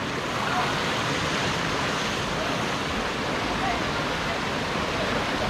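Steady, loud rushing water flows continuously without pause, a broad unbroken roar of a river running close by, the Banal na Ilog in Dolores, Quezon.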